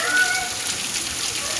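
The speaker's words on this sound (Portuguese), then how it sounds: "muita chuva aqui, ó, Juazeiro da Bahia, muita chuva mesmo" Heavy rain falls in Juazeiro, Bahia, a dense, steady hiss of drops on surfaces, close and continuous with no break, while a voice is faintly heard under it.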